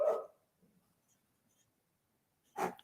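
A dog gives two short barks, one at the start and one near the end, close and moderately loud with near silence between.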